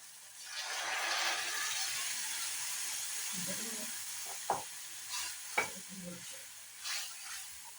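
Onions frying in coconut oil for a chutney: a soft continuous sizzle, with a few sharper stirring scrapes and clinks toward the end, fairly quiet.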